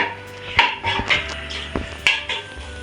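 Metal spoon clanks and scrapes against a pan while green chillies and onions are stirred together, irregular sharp knocks over a faint background sizzle, no talk.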